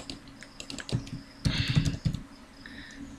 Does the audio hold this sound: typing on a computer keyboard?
yes